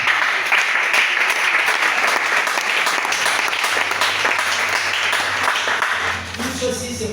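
A church congregation gives sustained, loud applause in praise, dense clapping that runs for several seconds with voices mixed in underneath, thinning slightly at the end.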